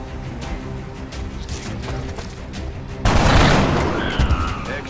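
Enemy gunfire in XCOM: Enemy Within crackles at a low level, then a loud burst of shots and impacts erupts and rumbles for a while.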